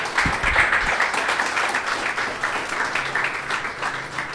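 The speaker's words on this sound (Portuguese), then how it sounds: "aplauda Jesus" A church congregation applauds steadily, a dense wash of clapping that holds at an even level throughout.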